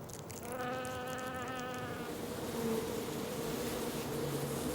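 Wasps buzzing steadily around their papery wood-pulp nest, a dense continuous drone that stays close and even throughout with no voices.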